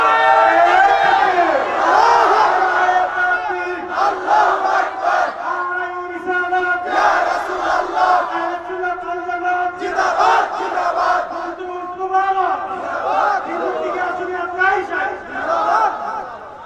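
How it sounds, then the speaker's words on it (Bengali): A large crowd at an outdoor Islamic religious gathering chants slogans in unison, loud rhythmic call-and-response waves of voices repeating every couple of seconds for the whole stretch. "স্লোগান দেন।"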